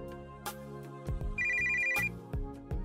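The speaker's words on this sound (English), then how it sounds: "A few hours later, my phone rang." A phone rings in a visual novel game: a synthetic ringtone melody with repeated beeping tones and percussive hits over a steady musical background, loud and close.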